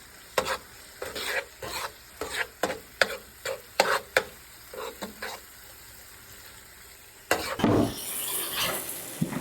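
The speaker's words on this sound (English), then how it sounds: "you want to stir the cheese in until it's nice and melted" Cheese being stirred into a pan until melted, with a run of distinct scraping strokes of a utensil against the pan, a brief pause, then a louder sizzling burst near the end.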